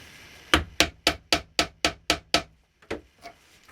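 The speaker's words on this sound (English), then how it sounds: "I'll ram the powder in there to within 1/2 inch at the end of the tube." Firework powder is rammed into the tube of a 3-inch color and report shell with a series of eight sharp, evenly spaced knocks, followed by a pause and two softer taps, close and clear with no talk.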